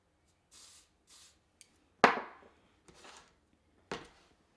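A few soft hissing spray bursts of setting spray on eyebrows, each brief, followed by a sharper, louder spritz and another short burst near the end; nobody talks.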